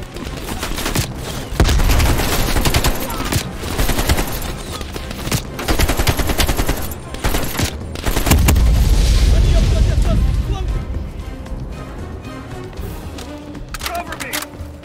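Heavy battle noise from Call of Duty Black Ops Cold War, with rapid bursts of gunfire and loud booming blasts, including a grenade explosion, that surge and fade across the clip, and voices are heard among the shots.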